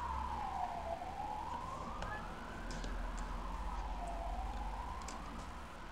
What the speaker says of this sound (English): Crazy ambulance.